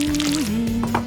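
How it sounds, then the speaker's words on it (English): Syrup pours onto a stack of buttered pancakes, a short close liquid stream with a steady tone and small wet squishes. "Let's melt some butter on top and pour on some syrup."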